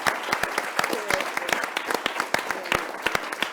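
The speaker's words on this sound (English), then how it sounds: "a round of applause for the respondents" An audience at an evening university lecture on AI and human values applauds, with scattered, uneven clapping from a modest crowd that is fairly close and steady for a few seconds.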